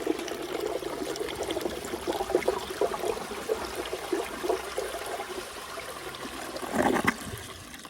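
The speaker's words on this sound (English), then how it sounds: "So let's give it a flush and then do some tests." A 2002 Crane Atlas toilet flushes with a steady rush and gurgle of water, a sluggish flow that keeps running, then a brief louder surge near the end, close and without voices.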